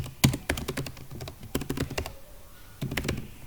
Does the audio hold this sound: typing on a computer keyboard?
yes